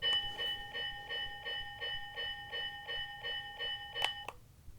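Steady rhythmic ringing of the locomotive bell on a Menards Santa Fe electric train set, about four strikes per second, clear and moderately quiet, ending with a sharper final clang.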